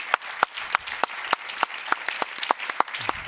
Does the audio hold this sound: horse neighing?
no